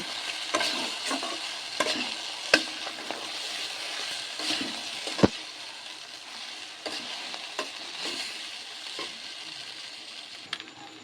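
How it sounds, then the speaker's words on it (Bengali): Boiled chow mein noodles being stir-fried with egg and vegetables in a pan for street-style egg chow mein, a steady sizzle broken by scraping stirs and sharp clacks of the spatula, close and fairly loud, with no talking. "এখন আমি দিয়ে দেব সেদ্ধ করে রাখা চাউমিন। ভালোভাবে নেড়ে চেড়ে নেব।"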